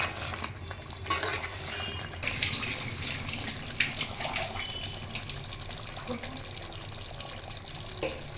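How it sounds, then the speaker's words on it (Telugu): Water poured into a pan of simmering kaju (cashew) chicken masala curry gives a steady, close splashing and bubbling that runs the whole time with small surges, and no one speaks. "కొంచెం గ్రేవీ కావాలనుకునే వాళ్ళు కొంచెం వాటర్ వేసుకోవచ్చు"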